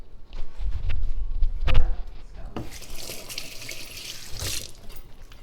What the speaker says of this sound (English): I'm gonna go and wash my hands real fast.